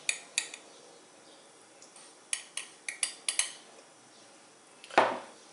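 A dessert spoon clinks against a jar and bowl while scooping Nescafe instant coffee for dalgona coffee, about ten sharp metallic taps spread out irregularly, then a louder scrape and knock near the end.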